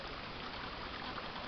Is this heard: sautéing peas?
no